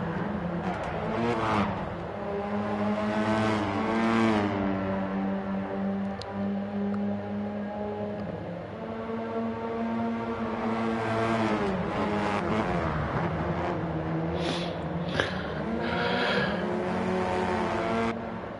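Race cars accelerating up the straight toward turn 2, engines droning and rising in pitch as several cars pass close by, loud and continuous, with another wave of revving climbing in partway through.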